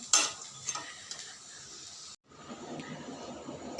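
Gobindobhog rice and gram flour frying slowly over a low gas flame, a gentle steady sizzle with a few sharp clinks of a utensil against the pan, close and quiet, with a short gap partway through.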